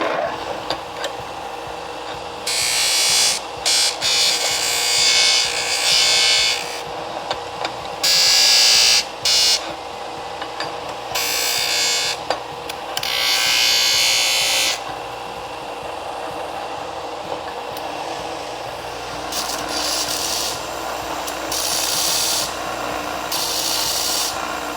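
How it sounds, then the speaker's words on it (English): Hand filing of burrs off a freshly cut part for an electric go-kart build: repeated bursts of harsh rasping strokes, some long and some short, separated by brief pauses, close and loud. "I'm just gonna get like the big burrs off"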